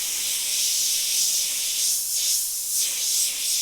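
Airbrush hissing steadily as it sprays paint onto a T-shirt for a beach scene, a continuous close, bright airy spray with slight swells as the stream moves along outlines.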